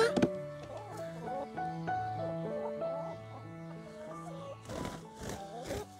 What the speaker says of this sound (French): C'était l'instant poule